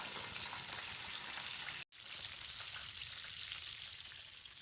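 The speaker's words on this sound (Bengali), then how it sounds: "আর একটু টাইম নিয়ে ভাজতে হবে, গ্যাসের ফ্লেমটা মিডিয়াম রেখেই কিন্তু এইভাবে ঘুরিয়ে ঘুরিয়ে ভেজে নিতে হবে।" KFC-style crispy chicken deep-frying in oil over a medium gas flame, a loud continuous crackling sizzle with a brief silent break partway through, then steady frying again with no talk.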